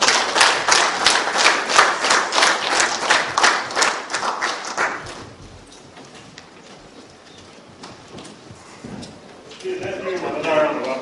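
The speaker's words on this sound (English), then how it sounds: "Let's give him another round of applause." Applause from an audience at a naval disaster management course, rhythmic clapping for the first five seconds that fades to a quiet murmur, then a voice begins speaking near the end.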